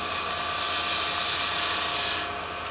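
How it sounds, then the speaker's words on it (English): A wood lathe spins a lidded box blank while a tool makes a back hollowing cut, producing a steady, close, high-pitched whirring whine that swells slightly and then eases off near the end, with no voices. "Now, I've been playing with this back hollowing cut, which is a lot of fun, and it removes wood a lot of faster"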